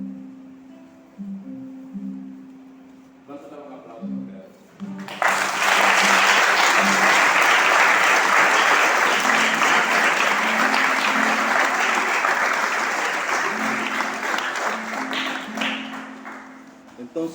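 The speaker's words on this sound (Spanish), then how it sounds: "Vamos a dar un aplauso." Applause from a congregation at a Torah portion teaching breaks out after a few seconds of speech, a broad sustained wash of clapping that slowly tapers toward the end.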